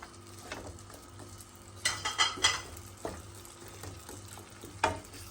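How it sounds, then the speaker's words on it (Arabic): Carrots sauté in hot oil for a Moroccan-style vegetable noodle dish, with a steady sizzle under clattering stirs of a utensil against the pan, a few sharp scraping bursts standing out close by. "غادي تسخن الزويته وغادي ندير فيهم خيزو حتى هو غادي نشرملو"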